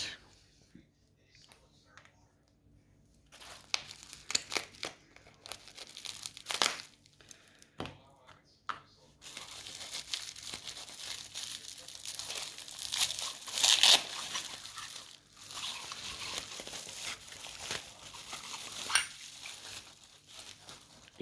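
Plastic bubble wrap packaging crinkling and rustling as it is handled, with soft pops and crunches coming in irregular bursts, close by and fairly quiet.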